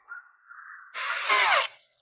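A power tool sands down a car air-conditioning pipe, a steady high-pitched whine lasting about two seconds that rises and roughens as it bites into the pipe before cutting off abruptly.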